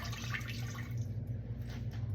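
Water poured from a cup into a medium saucepan while making cranberry sauce, a soft continuous splashing and trickling that runs without a break.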